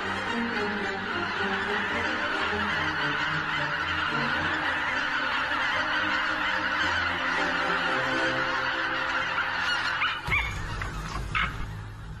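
A huge winter flock of geese in Poland honks continuously, a dense overlapping chorus of calls near and far, with a brief louder disturbance near the end.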